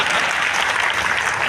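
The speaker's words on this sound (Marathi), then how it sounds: "आता एवढ्या मोठ्या शुभेच्छा दिल्यानंतर तुम्ही डबल टाळ्या वाजवायला पाहिजे." A hall audience at a Marathi Christian literary conference claps in a thick, steady roar of applause, loud and continuous for the whole moment.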